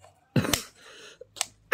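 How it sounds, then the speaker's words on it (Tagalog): A person coughs hard several times, a loud burst near the start, a smaller one in the middle and another at the end, with quiet gaps between, close to the microphone. "Masama ang panahon, kaya yung ubo natin masama rin."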